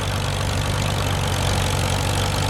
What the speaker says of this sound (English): tractor in line is owned by Bob Pondelax, a 1941H, pulling a two-bottom plow.